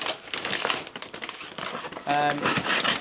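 Crinkling, tearing paper noises run through the clip beneath ongoing conversation, with a steady buzzing hum appearing near the end.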